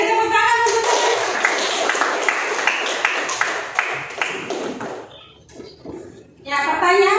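Classroom audience of children giving a round of applause, steady close clapping for several seconds that thins out, with a young voice speaking at the end.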